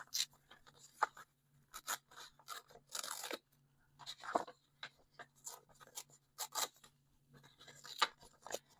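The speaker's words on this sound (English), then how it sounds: "here I would just come in and do the same kind of tearing" Paper printables torn by hand in short, crisp rips and crinkles, with close, irregular bursts separated by brief pauses and no talking.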